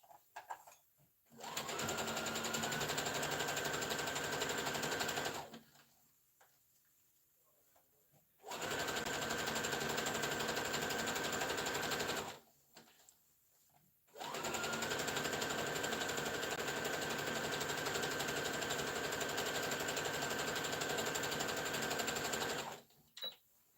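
A sewing machine back-stitches to close the seam of a fabric hair bonnet, running in three loud, steady bursts of rapid mechanical stitching separated by short pauses.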